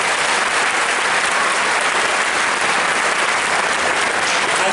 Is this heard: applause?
yes